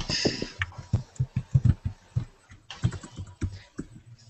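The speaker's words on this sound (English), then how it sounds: "He's typing in random names." Someone types on a computer keyboard, a quick irregular run of close, crisp key clicks with a short pause midway, and no talking over it.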